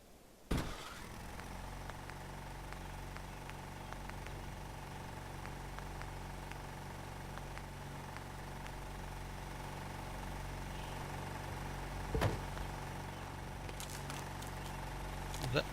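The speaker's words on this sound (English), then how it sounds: "Now the generator anyway." Generator in Fallout 4 running with a low, steady hum and faint rhythmic ticking, quiet and constant, with a couple of brief clicks over it.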